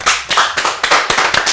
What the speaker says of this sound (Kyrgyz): Анда той шоу командасына кол чабуулар.